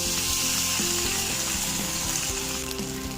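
Red chili sauce and tomato ketchup sizzle steadily in a hot pan for a corn snack, a continuous close frying hiss with a few soft stirring knocks and no voices.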